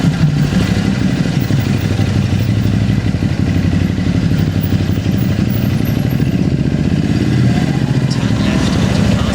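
Motorbikes on a busy two-way road, a steady near engine drone with rising and falling passes and clatter throughout, faint talk underneath.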